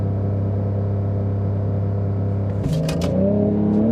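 Porsche 992 911 launching hard in sport mode: a steady near engine drone held at the line, then a sudden loud surge as revs climb and the car pulls away with rising pitch.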